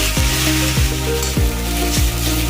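Potatoes stir-fried in a pan with a pinch of sugar, sizzling loudly and continuously, with regular scraping strokes of the spatula every half second or so.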